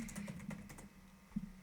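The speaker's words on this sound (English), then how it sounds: "Sorry guys, I'm typing it out." Quick light keystrokes on a computer keyboard, a short soft burst of typing close by in a quiet room.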